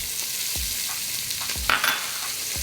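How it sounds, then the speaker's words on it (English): Onions, celery and carrots sizzling in a hot pan over browned fond with crispy pancetta for a bison bolognese, a steady bright hiss with a few stirring scrapes and pops. "It's time to go in with some of our vegetables."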